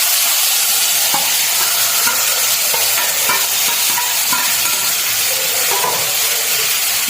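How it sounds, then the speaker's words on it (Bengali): A spoon stirs spices through green mango jelly pickle in a hot pan, with a continuous close sizzle and hiss and irregular scraping strokes throughout, no voices. "তারপরে আমি মশলাটা দিয়ে দিলাম, ভালো করে নাড়াচাড়া করে নিতে হবে।"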